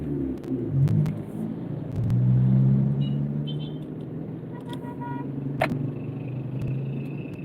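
Road traffic rumbles steadily with passing car engines, and a few short horn toots ring out, one sharp blast standing out midway.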